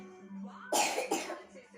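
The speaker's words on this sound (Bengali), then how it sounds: "আবার ঢকু ঢুকু করে কাশি হচ্ছে নাকি" A child coughs twice in quick succession, close by, with short harsh bursts over a quiet room background.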